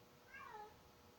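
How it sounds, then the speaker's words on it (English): A cat gives a single soft, falling meow in the background, faint and brief against quiet room noise. "please excuse the cat in the background"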